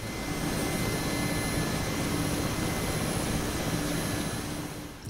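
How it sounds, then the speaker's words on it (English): A helicopter in a combat flight simulator game holds a hover before touching down, a loud steady rotor and turbine drone with a constant engine whine that fades slightly at the end, with no one talking. "Keep some airspeed and just make sure you are landing and that your helicopter is not shivering."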